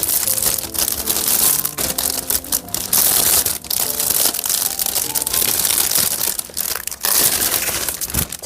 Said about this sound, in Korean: 자, 그럼 하나하나 비닐을 제거해 볼 겁니다.